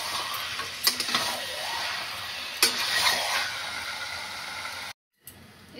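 Mutton pieces drop into hot, oil-glossed spice paste for Bengali mutton kosha, giving a steady close sizzle and frying hiss with a few sharp clatters as the meat is stirred, then a short break.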